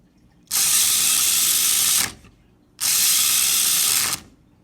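The weapons on a HEXBUG Battlebot, both driven by one shared motor, whir loudly in two bursts of about one and a half seconds each, separated by a short pause, close up.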